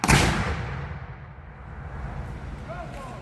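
A Civil War-era firearm fires once in an outdoor demonstration: a sharp, loud blast right at the start, followed by a long rumbling decay and faint background noise.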